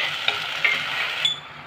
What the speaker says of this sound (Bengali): দইটাকে আমি 2 থেকে 3 মিনিটের মতন কুক করে নেব।